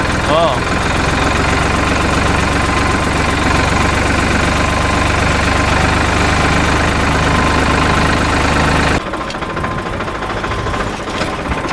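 A steady tractor engine drones loudly and evenly for most of the stretch, then drops off near the end, leaving quieter rumbling.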